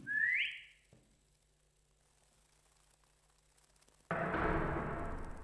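A single person's rising whistle sounds briefly at the start inside a horror game set on an abandoned cargo ship, followed by quiet hum and then a loud burst of broadband noise.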